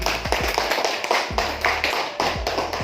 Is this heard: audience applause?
yes